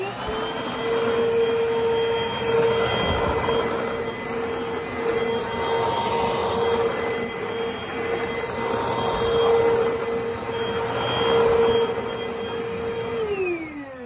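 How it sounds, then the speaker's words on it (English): A Eureka upright vacuum cleaner runs on carpet with a loud, steady motor whine and droning hum, shifting slightly as it is pushed back and forth, continuous for the full stretch with no talk. "just to show you how bad this Eureka is, we're gonna try using it to vacuum it."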